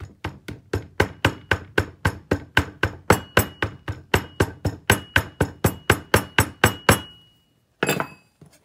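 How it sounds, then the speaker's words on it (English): A chasing hammer taps a sand casting flask in a fast, steady run of about thirty sharp metallic strikes, loud and close, then stops; a brief clatter follows after a short pause. "a hammer if you wanted. Chasing hammer works good."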